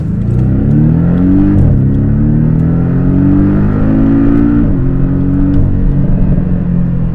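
A Porsche 718 Boxster S turbo engine, tuned to mimic a flat-six, revs hard and loud toward its 7,100 rpm redline, pitch climbing through several rising sweeps with brief drops between gear changes, close and continuous.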